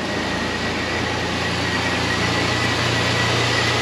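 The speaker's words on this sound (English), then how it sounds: "Let's go witness that compressor fire up." A car air conditioning compressor runs with a steady mechanical hum over a low engine drone, continuous, close by and even in level, with no voices.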